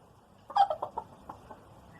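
Hens from a small backyard flock in a garden in the United Kingdom cluck in a short, quick burst of several calls, fairly close and clear, then taper off into quiet.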